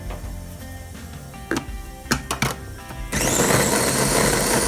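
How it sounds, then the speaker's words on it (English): A kitchen blender grinds bread into breadcrumbs. A low motor hum and a few clunks come first, then the blender roars up loud and steady for the final stretch. "We put the breads in the blender and now we're going to blend"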